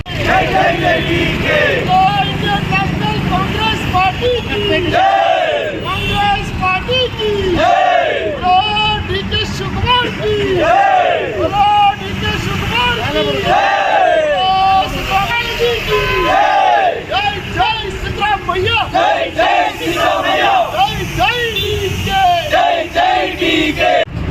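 Congress party supporters cheer at a celebration in Virajpet, a dense crowd of shouts and whoops that carries on loudly and without a break throughout.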